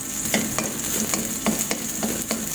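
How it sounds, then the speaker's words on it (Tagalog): Onion and garlic sautéing in a little oil in a frying pan, giving a steady close sizzle broken by regular scraping stirs. "Ginisa ko na ang sibuyas. And then, bawang."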